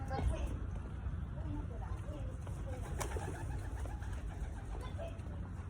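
Pigeons, including brown off-color birds, coo in a busy loft amid constant low rumbling background noise and occasional movement, with steady ambient clatter throughout.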